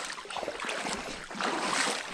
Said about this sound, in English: I hear all that water coming out of that exhaust right there.